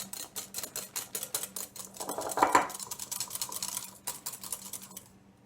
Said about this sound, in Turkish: yumurtamı köpük köpük olana kadar çırptım